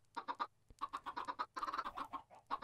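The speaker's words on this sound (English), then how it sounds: "Alright, so I got a few chickens in there." Several chickens in the Minecraft video game cluck in quick bursts of short, clipped calls, some overlapping, close and clear with a faint low hum underneath.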